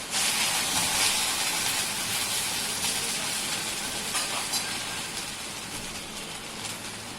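Okra for a quick Marathi-style bhaji stir-fries in a hot pan, making a loud, steady, close sizzle and hiss that fades slightly over several seconds.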